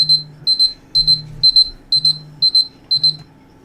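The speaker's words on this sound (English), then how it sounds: "That's my alarm to remind me that if I fell asleep on accident, to let Tucker out" A phone alarm goes off nearby, repeating a steady beeping pattern of short paired electronic tones about twice per second, loud and clear with nothing else behind it.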